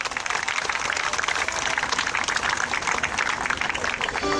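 Audience at a labor union rally for cable broadcasting workers clapping together, a dense, sustained wash of applause with no pauses, fairly loud and continuous.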